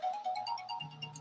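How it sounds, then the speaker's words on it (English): A mobile phone rings with a repeating electronic melody of short bright tones, fairly faint and heard alone without talking. "that's my phone ringing"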